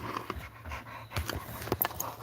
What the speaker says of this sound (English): He's a pit bull.